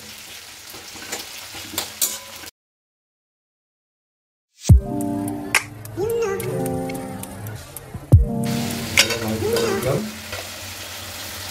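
Onion and whole garam masala sizzle and crackle in a hot pan while being stirred, a voice talks over it, and there is a brief silent gap early on.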